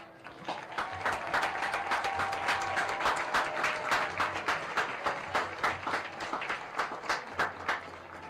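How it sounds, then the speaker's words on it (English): A crowd at a high school football game applauds the homecoming court, an outdoor, moderately distant patter of many hands that swells and continues for several seconds, with a few individual claps standing out near the end. "giving a round of applause for this year's homecoming court"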